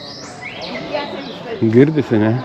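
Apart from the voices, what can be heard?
birds chirping in a park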